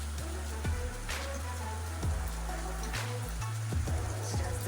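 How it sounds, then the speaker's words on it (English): Rain falling in a Caribbean setting, a steady broadband patter with a few sharper drop impacts, fairly close and continuous throughout with no voices. "Rain a fall."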